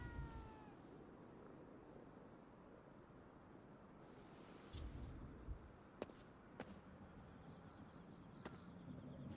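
A cat meows in the horror game Ghostware Tokyo: a plaintive meow opens, and a second cry follows midway over a low ambient hum, scattered with sharp clicks, with no talking.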